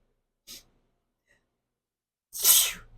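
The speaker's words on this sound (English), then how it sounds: "I think I'm going to sneeze" A short sharp inhale, then a pause and one loud explosive sneeze close to the listener.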